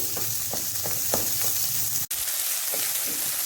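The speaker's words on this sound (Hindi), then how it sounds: "हाई फ्लेम पे हम सब्जियां फ्राई करेंगे तो हमारी सब्जी एकदम से क्रिस्पी होंगी" Mixed vegetables frying on a high flame, a loud, steady sizzle with rhythmic stirring strokes and a very brief cut partway through, with no talking.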